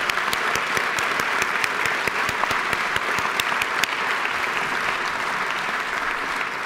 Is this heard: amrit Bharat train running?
no